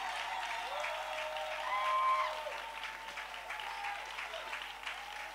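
A church congregation applauding in praise, a steady wash of clapping from many hands that swells midway and continues throughout, with a few faint voices mixed in.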